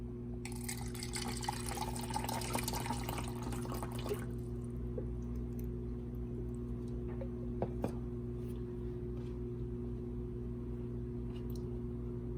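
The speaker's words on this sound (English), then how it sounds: "Let's pour some water in." Purified water pours steadily into a container for about four seconds, a close splashing stream over a low background hum, followed by quiet with a few small clinks.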